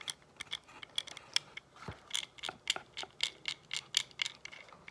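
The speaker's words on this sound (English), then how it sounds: "Nice adjustable wrench." A small adjustable wrench on a multi tool is worked by hand, giving a string of close, light metallic clicks and ticks in an irregular ratcheting rhythm with no talk.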